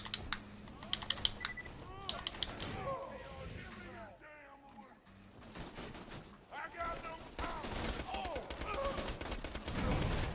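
Gunfire in Borderlands 2 comes in rapid bursts of sharp cracks and clicks, sometimes dense and sustained, with someone talking over it and game voices in between.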